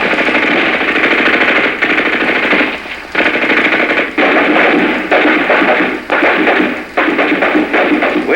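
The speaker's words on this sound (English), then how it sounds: "As the platoon approaches the enemy positions, it is taken under effective enemy fire." Sustained automatic gunfire of an enemy position firing on an advancing rifle platoon in a 1965 night attack, loud and continuous rattling bursts with short breaks between them.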